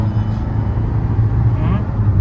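A Kia Sonet diesel hums steadily while driving on a highway, with a low engine drone and road rumble heard from inside the cabin, continuous and fairly loud, without clear talk over it.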